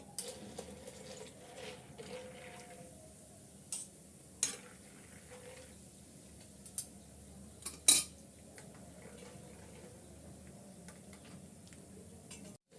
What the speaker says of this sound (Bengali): এখন কিছুটা বাদাম আমি ভেজে নেব তেলে।